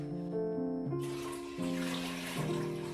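Water is poured from a measuring cup into a cooking pot, a close, steady stream whose pitch rises in stages as the vessel fills.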